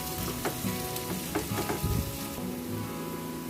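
Carrots, beans and green chillies stirred in a hot pan for chicken handi, with steady loud frying sizzle and a few scraping stirs throughout, no talk.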